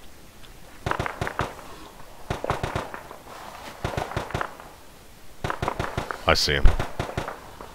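Gunfire in a military video game comes as sharp, loud cracks in quick clustered bursts separated by short pauses, with a voice speaking briefly near the end.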